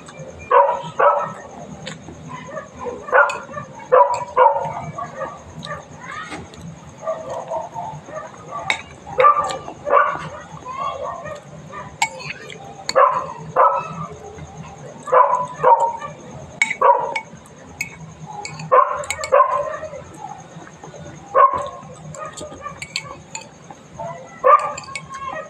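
Dog barks in repeated short bursts throughout, fairly close, with some whimpering and faint clinks in between.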